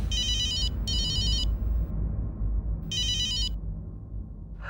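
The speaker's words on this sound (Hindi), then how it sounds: "फोन उठाइए ना।" Telephone ringing in repeated bursts before a call is answered, loud and clear over a low steady background hum, with no voices.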